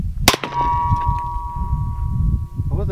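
A bullet strikes a metal cannon at a shooting range, giving one sharp, loud clang that leaves a clear metallic ring sustained for about two seconds, with faint background noise after it.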